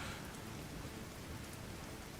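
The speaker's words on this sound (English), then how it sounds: "I like playing in the rain." Steady in-game rain from The Division 2 falls as an even, soft broadband hiss, faint and continuous throughout with no talking.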